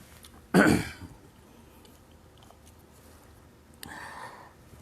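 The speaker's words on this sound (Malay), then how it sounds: "batuk sikit." A single loud throat-clearing cough up close, followed a few seconds later by a softer, shorter throat noise, with quiet room background between.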